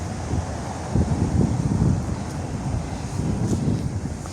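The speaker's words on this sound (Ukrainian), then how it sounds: "Знов піднявся той вітер, трошки починаємо підмерзати" Wind gusting across a dark city square in Kyiv on a cold winter night, a steady low rumble buffeting the microphone with stronger blasts in the middle, no one speaking.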